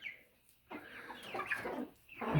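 Soft clucking and chirping of chicks nearby, faint and fluttery, with short pauses between bursts.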